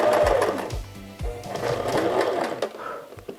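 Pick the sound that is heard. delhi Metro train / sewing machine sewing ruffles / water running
sewing machine sewing ruffles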